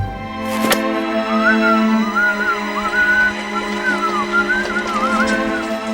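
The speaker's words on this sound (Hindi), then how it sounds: "तू सीटी बजा रहा है।" A person whistles a wavering, sing-song tune for several seconds, loud and close, after a sharp knock at the start, over a steady droning background hum.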